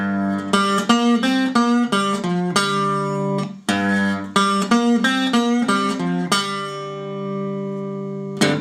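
Guitar playing a Delta blues lick at a quicker pace, a clear run of rapid plucked notes in bursts with brief pauses, ending on a ringing sustained chord; close and alone.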